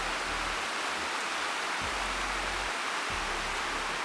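Cold mountain spring water at Maltar being collected into containers, a steady rushing flow with low gurgling surges, close and fairly loud, continuous throughout with no talk.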